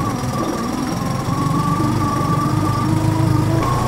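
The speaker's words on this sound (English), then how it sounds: "To start the engine, first ensure there is nothing fouled around the propeller" A boat's engine on a Lagoon 42 catamaran runs at a steady, close, buzzing idle with a faint mechanical knock, its pitch and loudness holding even throughout.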